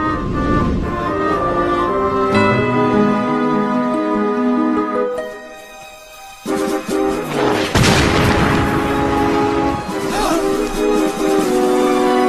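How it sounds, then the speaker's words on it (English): Cannon fire close by in an animated Revolutionary War setting: a deep, heavy boom cuts through the music midway, with a rumbling aftershock, while a music score plays throughout. "Cannon! And they're close!"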